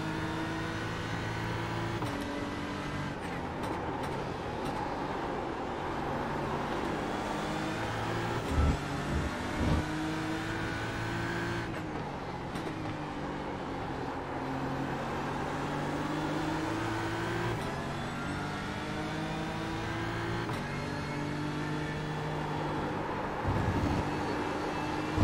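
A Porsche race car engine in a sim racing event at Watkins Glen, a steady high-revving drone with shifting pitch that rises and falls through gear changes, continuous and fairly loud throughout with no voices.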